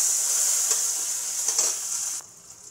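Chicken with cardamom, cinnamon, cloves and garlic and ginger paste fries in a pan, giving a steady, bright sizzle with a few soft stirring bumps before it quiets.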